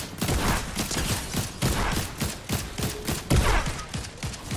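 Hip-fired gunshots in an online shooter video game: repeated bursts of loud, sharp shots, about six clusters spaced through the stretch, with no voices.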